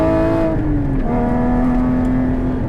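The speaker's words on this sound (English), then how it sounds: "hear that sound just build to a glorious wail" A 2018 Porsche 718 Cayman GTS engine revs loudly and steadily, its pitch climbing and holding in a sustained, rising wail close by.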